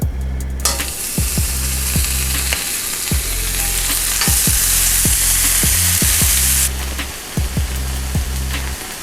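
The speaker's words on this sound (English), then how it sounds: "grease our griddle a little more and then add our Canadian bacon on it" Canadian bacon sizzles and fries steadily on a greased griddle, a loud continuous hiss with sharp periodic clicks and scraping taps from a utensil.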